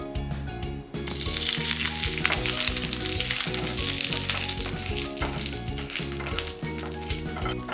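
Chopped ginger for a barberry sauce hits a hot pan and bursts into loud, crackling sizzling after a short quiet moment, then keeps frying steadily with faint rattles of the pan.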